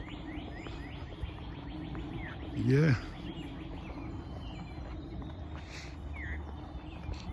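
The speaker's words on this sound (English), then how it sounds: "you can just hear the birds. You hear the birds." Birds chirp and tweet in the background during a nature walk near bushes and a river, faint scattered calls under a soft outdoor ambience, with a brief spoken word from a man partway through.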